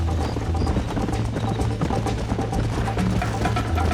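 Horse hooves clip-clop steadily at a gallop in the Western video game Red Dead Redemption, a busy, continuous rhythm mixed with engine-driven game sound and music underneath.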